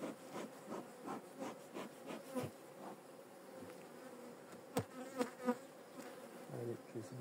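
Honeybees buzz steadily around an open hive colony, a dense close drone with brief louder passes of individual bees near the listener and faint handling rubs at times.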